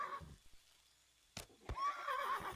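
A horse in the video game Mortal Online gives a brief neigh. It is faint and mixed with hoof-like clicks and other quiet game sounds.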